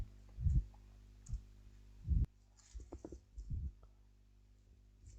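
Keys on a computer keyboard are pressed in a few soft, separate clicks spread over several seconds with quiet gaps between, heard close with no talking.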